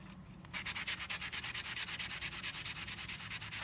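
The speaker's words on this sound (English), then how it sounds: "This sanding block has different sides on it, so one of them is a heavier grit and a lighter grit" A pressed penny is rubbed back and forth on a multi-grit sanding block, giving a steady run of close, rhythmic rasping strokes after a brief quiet start.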